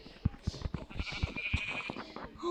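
A sheep bleats several times in quick, uneven calls, fairly close and clear, with a faint voice murmuring underneath.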